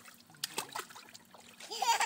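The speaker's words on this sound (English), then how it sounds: "Splash around." Light splashing and trickling water as a child splashes in a pool, soft and close, with a few quiet bursts of movement and faint voices in the background.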